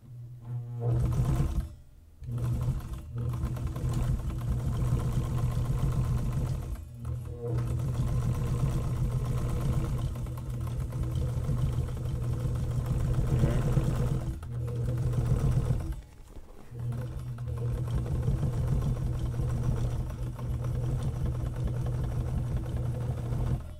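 A sewing machine stitches a laptop bag in a home workshop, running in long steady hums broken by brief pauses, close and loud with no talk.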